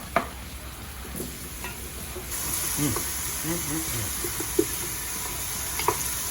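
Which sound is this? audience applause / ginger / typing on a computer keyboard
ginger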